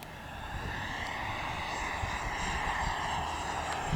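A Flyfans MiG-25 Foxbat electric ducted-fan RC jet flies overhead with a steady, rushing whine that holds at an even level throughout, slightly swelling toward the end, with no voices.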